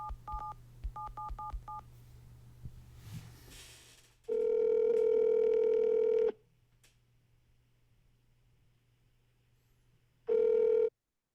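A telephone keys in a number with quick beeping tone groups, then a long ringback tone sounds, a pause follows, and the ring starts again before cutting off; no one speaks.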